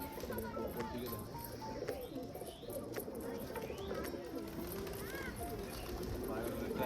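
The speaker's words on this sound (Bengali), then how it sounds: "এই যে দেখো পায়রাগুলো ছাড়বো এক এক করে।" Pigeons released one by one in cold weather coo and flutter faintly amid a dense wash of outdoor background noise and distant voices, with occasional short chirps over the steady murmur.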